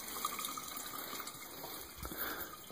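Water drains steadily from a hot water heater, a continuous, fairly quiet rushing flow like a running tap, with no voices.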